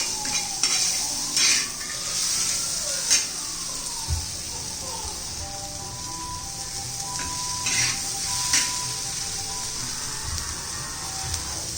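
Kolhapuri thecha, a coarse chilli mash, is reheated with onions in a pan, giving a steady sizzle under repeated scraping and stirring of a spatula against the pan, with a voice talking intermittently.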